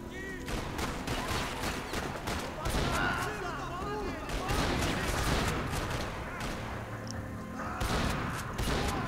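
Shotgun and other gunfire crack repeatedly through a busy action scene in the video game Max Payne 3, with dense, continuous blasts and booms under a player's voice.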